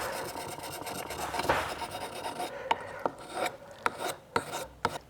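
An Okatsune shear blade is worked on a 1000 grit whetstone, giving a close, steady rasping scrape that breaks into several sharp separate strokes toward the end, with no voices.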